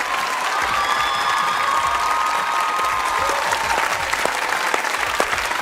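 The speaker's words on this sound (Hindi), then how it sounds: "तालियां!" Studio audience at a Pakistani comedy talk show clapping loudly and steadily, a crowd with faint cheers mixed into the continuous applause.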